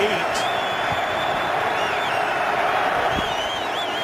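Steady, loud roar of a football stadium crowd at a Rams–Bears NFL game in Chicago, continuous and dense with whistles and cheers rising above it, and a commentator's voice faintly under the noise.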